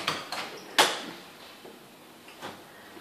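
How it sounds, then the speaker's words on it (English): Metal latches on the door of a ZLF100/150AC unit are released, giving a few sharp clicks and a clunk, followed by fainter rattles as the door swings open nearby. "if you open the unit by slipping the latches on the door"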